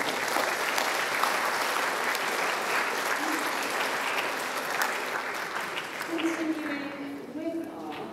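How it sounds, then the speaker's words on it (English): Sustained applause from a school assembly audience for concert performers and staff, dense steady clapping from many hands filling the room for several seconds, tapering slightly toward the end as a voice begins. "a big round of applause to all the performers and also to the staff"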